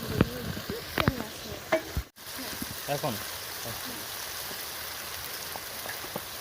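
Cumin and spices frying in a pan while cooking broiler chicken, a soft, steady sizzle heard under a voice talking in the first few seconds.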